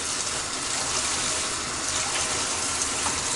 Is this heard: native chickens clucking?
no